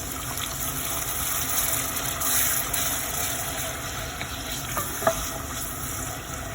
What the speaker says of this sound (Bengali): তেল গরম হয়ে গেছে। তো এখন আমি পেঁয়াজ আমি দিলাম